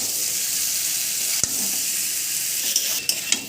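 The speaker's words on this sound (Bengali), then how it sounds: "পটলগুলো দিয়ে দিলাম আলুর মধ্যে, দিয়ে ভালো করে কষাবো।" Pointed gourd and potatoes sauté in a hot pan with a steady, close sizzle, punctuated by a few sharp clicks and scrapes of stirring, and no voice present.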